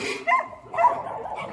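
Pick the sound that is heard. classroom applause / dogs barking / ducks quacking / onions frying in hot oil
dogs barking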